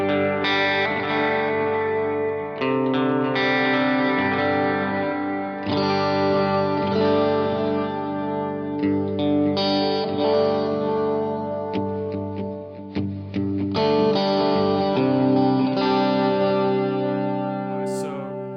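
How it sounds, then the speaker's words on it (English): Sustained electric guitar chords through a Strymon Iridium with a 70s plate reverb patch and repeating delay trails, washing together into a wide, shimmering sound. "I've got a 70s plate patch."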